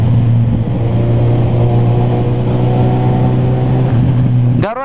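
A high-torque motorcycle ridden in light drizzle holds a loud, close, steady engine drone, then its pitch sweeps sharply upward as it accelerates at the very end.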